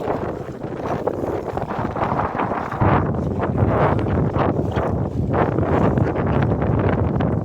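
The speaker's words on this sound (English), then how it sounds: "This is kind of a gust." A gust of wind while sailing a boat in gentle conditions near a small island, a loud, steady broadband rush that swells stronger partway through and buffets the microphone throughout, with no talk.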